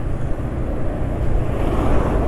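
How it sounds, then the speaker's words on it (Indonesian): A motorcycle engine running on JASO MA oil idles close by with a rough, uneven low rumble that never lets up. "kalau pakai versi PCMO nya nggak akan sekasar ini suara mesin"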